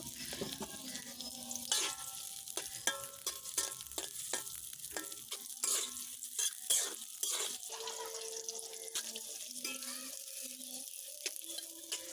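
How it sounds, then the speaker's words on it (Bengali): Onions fry in oil in a wok for a spiced goat curry, giving a soft, steady sizzle with frequent scraping and stirring clatter of a spatula, close by and moderately loud throughout. "তারপরে পেঁয়াজ দিয়ে হালকা করে ভেজে নেব, লাল লাল করে নেব"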